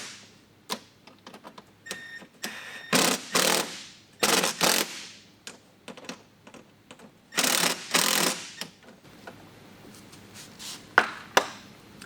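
Bursts of a power impact tool tightening mud flap mounting bolts on a 2007-2013 BMW 328i E93 convertible, with loud rattling runs separated by pauses and scattered clicks and clanks of handling nearby.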